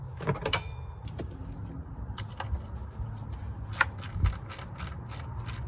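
Ratchet clicking as a spark plug is tightened on a Jeep Grand Cherokee V6, a few scattered clicks early then a quick run of sharp close ratchet clicks near the end over low background hum.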